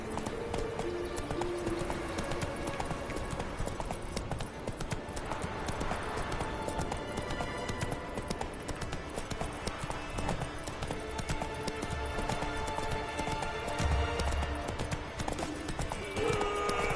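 Hoofbeats of a horse galloping in The Witcher 3, a steady rapid clip-clop running continuously under game music and ambience, with no talk.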